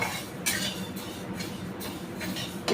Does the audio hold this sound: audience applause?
no